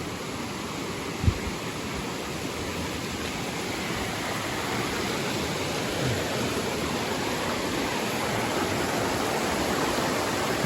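River water rushing past at a stream crossing, a dense, steady wash of flowing water heard up close and fairly loud throughout, with a single faint knock early on and no voices.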